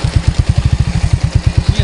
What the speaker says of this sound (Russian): Ну вот, я на холостых еду.